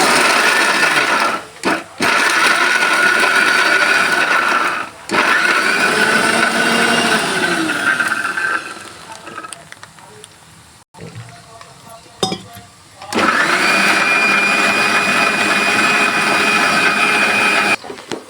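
A mixer grinder grinding curry leaves into a spice paste whirs loudly in several bursts, stopping and starting, with clatter and quieter gaps in between.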